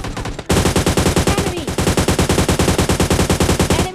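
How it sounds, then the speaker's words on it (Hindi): Rapid automatic gunfire in the PUBG Lite battle royale game, a loud, steady burst of evenly spaced shots lasting several seconds after a brief lead-in. "अब जैसे मैंने इसको भराना तभी मेरे पे फायर आता है राइट साइड से"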